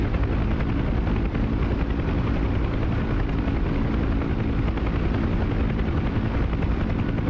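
Simulated UH-1 Huey helicopter in flight in DCS, its rotor thump and turbine roar steady, loud and dense throughout with no talk.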